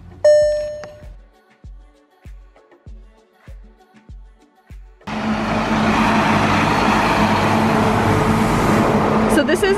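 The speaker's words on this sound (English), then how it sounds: "I don't know if you can hear me because of all the cars." Steady roar of street traffic from passing cars sets in midway and runs loud and continuous to the end, after a series of short, sharply decaying tones.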